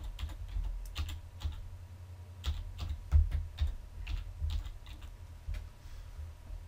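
Close, clear keystrokes as Outlook.com is typed on a computer keyboard, in irregular quick clusters of taps over a low background hum.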